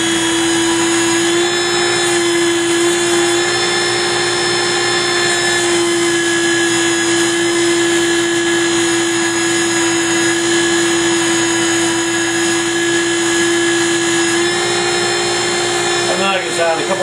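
Steady abrasive whir from a power sander smoothing a part for a tall ship model, running loud and continuous for the whole stretch with a constant tonal hum, ending in a brief clatter.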